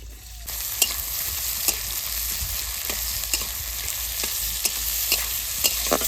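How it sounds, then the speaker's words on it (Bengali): Chopped onion and green chili frying in oil in a pan, a continuous close sizzle punctuated by regular sharp scraping ticks of stirring, loud and steady with no talking. "লঙ্কা আর পেঁয়াজ একটু ভেজে নিয়েছি"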